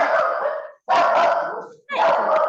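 A pet dog barking indoors on a video call, three long, loud, harsh barks or yowls with brief gaps, close to the microphone.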